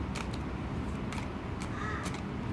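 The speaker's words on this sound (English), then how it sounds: "I've got 2 crows and they've just brought out a baby" Several short, harsh caws from a baby crow ring out at intervals over a steady background hiss, one slightly wavering call near the end.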